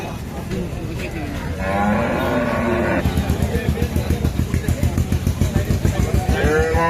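Cattle moo loudly at a busy Eid livestock market in Rajbari, long drawn-out calls over crowd murmur, followed by a rapid rhythmic thudding engine, likely a motorcycle, puttering nearby.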